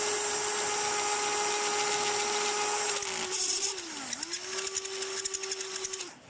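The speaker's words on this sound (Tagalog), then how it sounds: "Kagandahan kasi dito sa Barina na to, meron siyang adjustment ng torque." An electric drill with adjustable torque whines steadily at close range, its pitch dipping and recovering partway through before a run of rapid clicking as it winds down.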